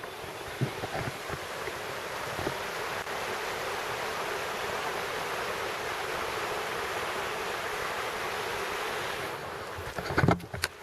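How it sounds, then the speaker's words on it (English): The Whanganui River in New Zealand flowing steadily nearby, a broad even roar of rushing water with a few faint knocks near the end. "we have a river"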